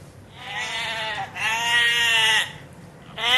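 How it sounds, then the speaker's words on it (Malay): Farm goat bleating, close and loud, in three long wavering calls with short pauses between them and no talk. "Ini adalah bunyi kambing."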